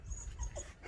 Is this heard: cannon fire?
no